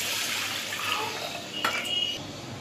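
Water splashing and swirling as lentils are rinsed in a bowl for sambar, soft sloshing with a brief louder splash, close by and without voices.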